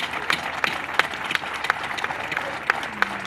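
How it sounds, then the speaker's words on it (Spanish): An audience at an outdoor public proclamation event in Montevideo applauds, producing a dense, steady patter of many hands clapping with a few sharper claps standing out over low crowd murmur. "quisiéramos pedirles un aplauso muy grande para Marcelo, Isabel y Fito"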